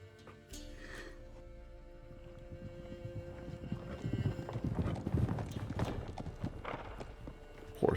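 Horse hooves clip-clopping as a rider approaches in the video game Witcher 3, a rhythmic clopping growing louder and nearer over wind and ambient game sound, with a faint whinny.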